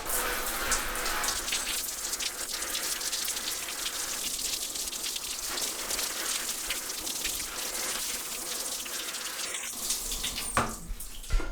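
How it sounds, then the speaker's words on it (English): A shower sprays water onto a bicycle handlebar bag, a constant close hiss of spattering water that runs unbroken for the whole stretch, with a brief change near the end. "That's probably from where I was shooting the shower upwards"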